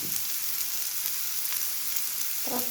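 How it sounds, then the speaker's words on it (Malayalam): Sliced onions with salt sauté in a pan, giving a steady close sizzle and hiss, with a short voice at the very end. "ഉപ്പിട്ട് നന്നായി വഴറ്റി കുറച്ച് നേരം മൂടി വെക്കാം നമുക്ക് ഉള്ളി ഒന്ന് വഴഞ്ഞ് വെക്കാം"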